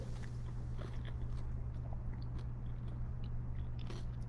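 Close, faint crunching of someone chewing kelp noodles, soft irregular bites and mastication repeating over a low steady hum, with no talking.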